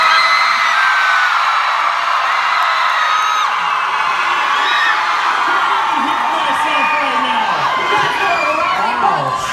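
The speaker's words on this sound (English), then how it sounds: "This is easily the loudest crowd." A packed live-show crowd in San Francisco roars, whoops and screams continuously, a dense, loud wall of shouting voices with high shrieks throughout.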